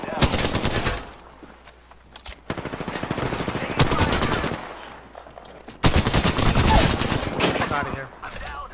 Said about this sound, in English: Open fire on the enemy.